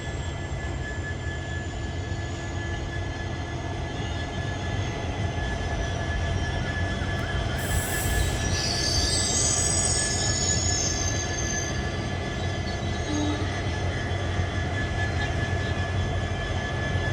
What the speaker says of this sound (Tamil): Tirupati to Rameswaram train